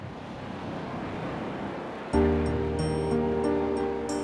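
Calm winter sea waves wash steadily onto a beach in the video game TMGS2, a soft continuous surf that swells slightly louder halfway through as a sustained musical tone enters over it.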